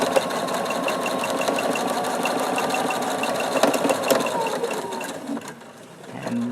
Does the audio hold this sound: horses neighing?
no